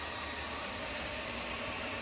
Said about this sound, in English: Get you that new vacuum while it's on sale, super lightweight, easy to use, and it does a great job.